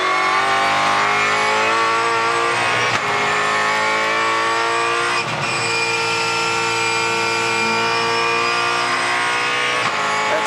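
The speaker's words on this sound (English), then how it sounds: "have a listen to the engine note when he comes onto the straight." A Supercar race car at the 2019 WD-40 Phillip Island SuperSprint practice roars down the straight. Its loud, sustained engine note holds at a steady high pitch, with brief dips as the throttle lifts, and no voices are heard.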